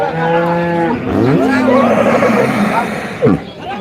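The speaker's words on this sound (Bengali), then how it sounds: "এপাশেও কিন্তু আরও গরু রয়েছে" Cattle at a cattle market, loud close moos, a long drawn bellow and then more lowing, with people talking over the crowd noise.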